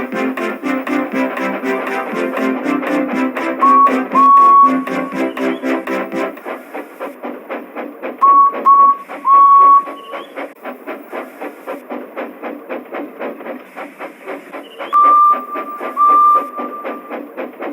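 A steam train chugs along with steady rhythmic clatter, broken by several short, sharp whistle blasts, fairly close and loud throughout.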